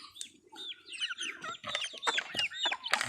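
Egg-laying hens cluck and chirp in a lively, continuous chatter, several birds close by with overlapping short calls and no talking.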